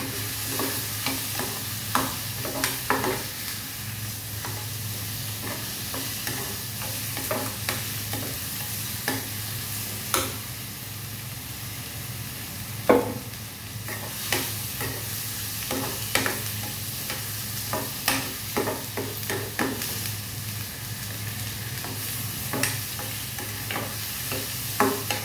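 Roasted gram and fennel being stirred and dry-roasted in a pan while preparing a cowpea and potato gravy, with repeated scraping strokes of a spoon over a steady low hum and faint sizzle, no talking.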